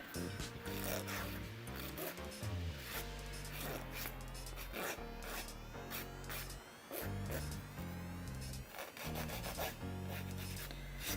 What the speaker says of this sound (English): polygel is much easier to file than, let's say, like acrylic